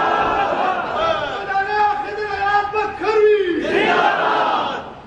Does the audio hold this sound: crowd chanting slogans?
yes